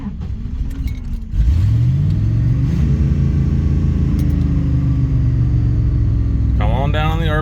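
A 1990 Dodge Ramcharger engine starts and settles into a loud, close, steady rumbling idle, with a voice speaking briefly at the end.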